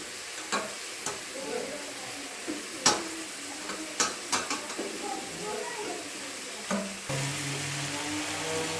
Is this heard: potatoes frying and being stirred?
yes